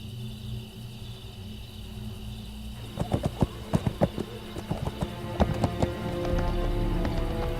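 Horse hooves clip-clop in a cutscene from the horror game Splatterhouse (2010), a quick run of clear, moderately loud hoofbeats coming in after a quiet ambient stretch, with no voices.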